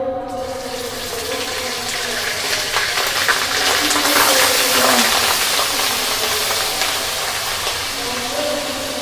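Onion paste hits a hot pan and sizzles in a loud, steady hiss that swells briefly and holds throughout, while a gourd and shrimp curry is being cooked.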